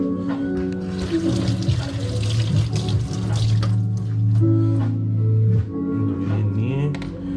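Tap water runs steadily while vegetables are rinsed by hand in a sink for a Bengali bhorta meal, a continuous splashing flow with shifting pitch as the stream hits the produce and basin, close and fairly loud throughout.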